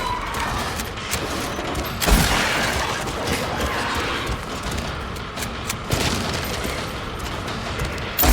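Sustained gunfire from Silent Hill 2 Remake, a dense roar of rapid shots running nearly unbroken, with louder blasts standing out near the start and end.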